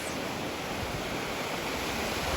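Surf washing in on a coastline at sunset in El Cardón, a steady, dense roar of breaking ocean waves with no pauses and no voices.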